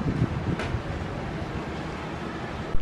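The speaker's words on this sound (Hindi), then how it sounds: "बहुत अच्छी हवा चल रही है, हल्की हल्की." A gentle outdoor breeze makes a soft, steady rushing hiss close to the microphone, with no other sounds over it.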